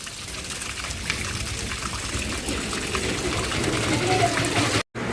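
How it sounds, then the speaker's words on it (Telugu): Water pours steadily into a household air cooler, a continuous splashing rush that carries on for several seconds before cutting off briefly near the end. "కూలర్ అయితే సెట్ చేశారండి వాటర్ కూడా పట్టేసాము"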